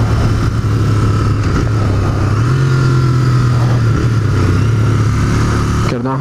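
A Royal Enfield Continental GT 650 café racer motorcycle runs loudly and close, its engine pitch rising and falling as it accelerates through gears, with a sharp change near the end.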